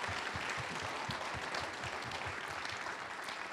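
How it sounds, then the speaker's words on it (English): An audience at a live Social Venture Partners event applauds in-kind partners, with an even wash of many hands clapping that holds steady throughout, somewhat distant and fairly quiet, with no clear talking. "please, big round of applause for our in-kind partners"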